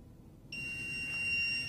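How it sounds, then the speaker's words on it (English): A FloodStop water leak detector goes into alarm, a loud steady high-pitched electronic tone that starts abruptly after a brief quiet moment and holds continuously. "It's going into alarm mode."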